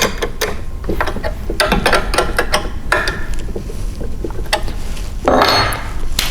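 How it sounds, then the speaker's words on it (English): Metal tool clinking and ratcheting against 3/8 bolts tightened with a 9/16 wrench while installing a CheckMate striping kit on a 2018 Honda HRR mower, a close series of sharp taps and clatters. "take your 9/16 wrench and go ahead and tighten these 3/8 bolts all the way down"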